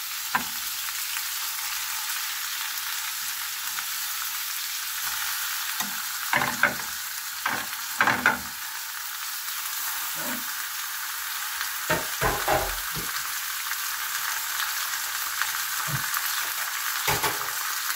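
A yellowfin tuna head sizzles and fries steadily in a pan for a stew with eggplant and pechay, a continuous close hiss broken by occasional stirring clatters.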